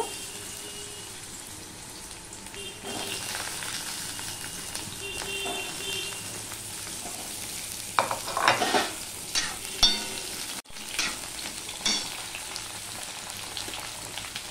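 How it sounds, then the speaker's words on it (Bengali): Pieces of pointed gourd (potol) fry in hot oil in a pan with a steady sizzle, then louder stirring scrapes and clatters near the end, with no talking. "সবার প্রথমে আমি পটলগুলো ভেজে নেব"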